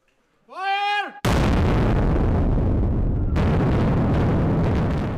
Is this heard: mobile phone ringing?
no